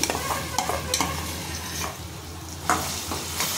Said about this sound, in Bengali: তেল গরম হয়ে গেছে, এবার ছোলার ডাল বাটাটা দিয়ে দিচ্ছি।